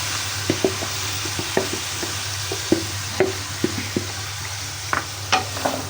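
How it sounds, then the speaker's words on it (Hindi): Chicken being fried (bhuna) in a pot for white korma, a steady soft sizzle under repeated sharp knocks and scrapes of a spoon stirring against the pot, close by with no talking. "इसको अच्छी तरह से हम भून लेंगे ताकि जो चिकन की महक है ना, वो हमने ख़त्म करनी है अभी ना"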